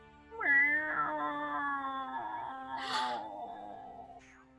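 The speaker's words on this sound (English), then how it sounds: "Oh my gosh, I think this is a cat." A small cat hiding between a black trash bag and soggy cardboard boxes meows in one long, loud, drawn-out wail, close by and clear, ending in a brief breathy hiss.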